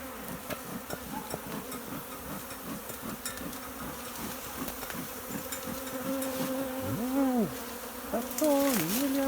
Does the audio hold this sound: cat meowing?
no